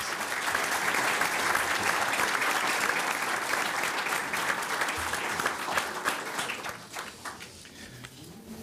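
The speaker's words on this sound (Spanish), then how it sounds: "les despedimos con un nuevo aplauso" Audience applause fills a university hall after a choir performs at an honorary doctorate ceremony, dense and sustained for several seconds before thinning into scattered claps and fading out.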